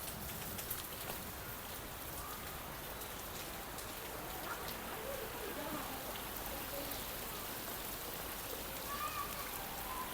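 Steady, dense rain falls throughout, a continuous even hiss of drops striking surfaces nearby, with no pauses and no talking.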